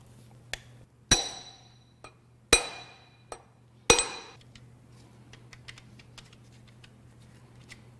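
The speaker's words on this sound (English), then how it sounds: "We'll see if I can rock it and bang it back and forth." Seized Vortec 454 7.4L big block Chevrolet engine parts struck by hand tools: a handful of sharp metallic bangs with ringing decay at irregular intervals, then lighter taps and clicks over a low steady hum.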